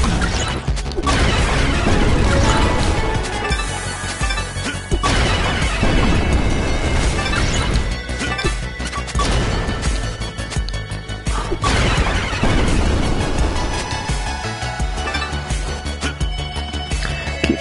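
Loud, crashing explosions from the video game The Mummy Demastered burst repeatedly, booming blasts and smashes in dense succession filling the whole stretch with no talk over them.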